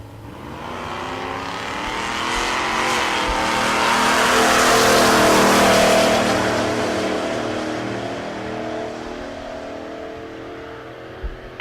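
Two drag racing cars, a Mustang and a Dakota, launching side by side at Tulsa Raceway Park, loud engine roar swelling to a peak midway then fading as they pull away, heard alone without talk.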